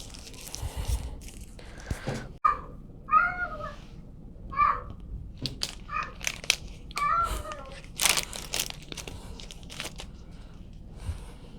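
A cat meows repeatedly at a veterinary clinic during preparation for injections, sounding several distinct, fairly close cries spaced by pauses, mixed with light crinkling and handling noises.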